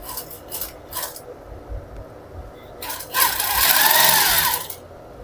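A sewing machine with a defect that keeps breaking the thread makes a few short rattling taps, pauses, then revs into a louder, faster whirring run that lasts about a second and a half before stopping.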